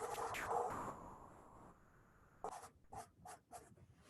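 Pencil or pen on paper drawing a circle: soft scratchy strokes at first, then a pause and several short rhythmic scribbling scrapes, close and quiet.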